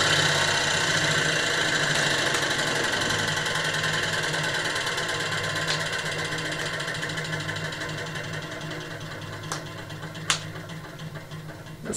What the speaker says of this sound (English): So much suction from that motor.